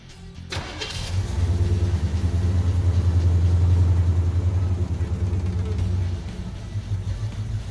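A car engine fitted with a Holley Avenger EFI system cranks and catches, then settles into a steady, loud idle close by for several seconds before quieting slightly.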